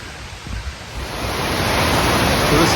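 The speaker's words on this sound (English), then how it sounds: "Pretty cool waterfall. Flowing pretty good." Sable Falls in Michigan's Upper Peninsula flowing strongly, a broad, steady rushing roar of falling water that grows slightly louder over a few seconds, heard up close without talk.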